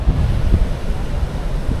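Strong ocean waves wash onto a beach in a steady, loud roar. Gusting wind buffets the microphone throughout.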